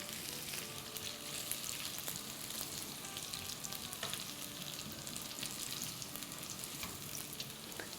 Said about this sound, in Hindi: देखिए हमारे पोटैटोज़ को फ्राई होते हुए 4-5 मिनट हो गई